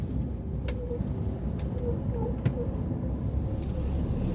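A truck cruises along a road with a steady, moderately loud engine and road rumble throughout, a few faint bird chirps and short clicks over it.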